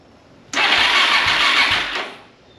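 A supermoto motorcycle engine, choke on, catches after a long layup and settles into a steady mid-pitched idle for about a second and a half before fading back down, with no talking during it.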